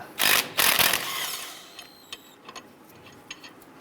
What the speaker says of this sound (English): Remove the lug nut.